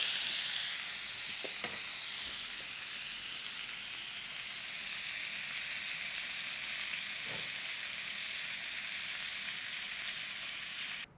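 Fresh salmon fillets searing in a hot pan give a loud, steady, close sizzle and crackle that runs unbroken throughout, with a couple of faint taps early on.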